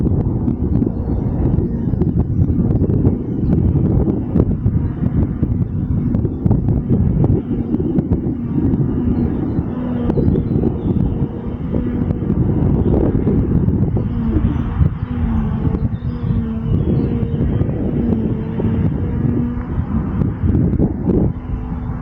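Heavy wind of about 40 km/h buffeting the microphone, a constant low roar with gusty rumble throughout, loud and continuous, no voices.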